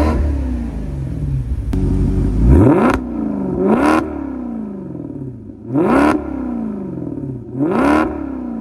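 A Maserati GranTurismo Sport Convertible's V8 engine revs loudly and up close, with a deep burbling idle that rises into four sharp throttle blips, each one climbing and then falling back to a rumbling idle.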